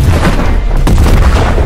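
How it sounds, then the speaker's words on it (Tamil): Sound effect of the moon exploding: a loud, sustained, rumbling blast with heavy low boom and crackling texture, dense and unbroken throughout, with no speech. "ஆனா இப்ப நிலா வெடிச்சிருச்சு"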